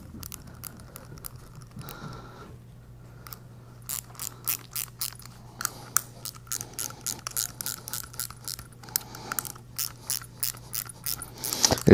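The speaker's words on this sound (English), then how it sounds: "I'm working my way back and forth between the two to evenly drive the gland plate down" Wrench ratcheting on the gland plate bolts of a flush tank ball valve, quick bursts of sharp clicking pawl strokes alternating between pauses over a low steady hum, close and clear.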